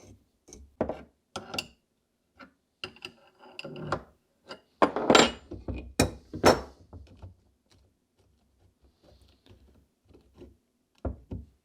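Flywheel puller working the flywheel off an NSU Quickly moped engine during teardown: a scattered series of metallic knocks, taps and clinks at close range, with a louder cluster midway and quiet gaps between.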